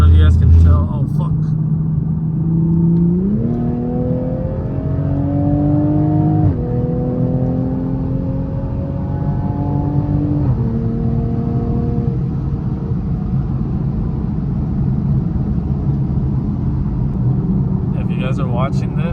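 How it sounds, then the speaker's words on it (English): Toyota A90 Supra with a CTS Turbo downpipe pulls hard from inside the cabin with the windows down, its exhaust note climbing in steps through several gear changes over a steady road rumble before settling into a cruise. "I had the windows down so I can try to get most of the exhaust sound"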